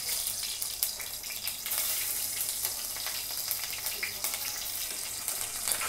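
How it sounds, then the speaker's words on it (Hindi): Hot oil crackling steadily in a wok as chilies go in, a dense continuous hiss and spatter heard fairly close throughout, with no clear speech over it. "तेल गरम हो गया, इसमें मिर्ची डाल दूंगी"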